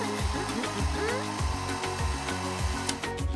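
Hair dryer blowing on a doll's hair, a close, loud steady whir with some uneven surging and fluttering as it moves, running continuously for a few seconds.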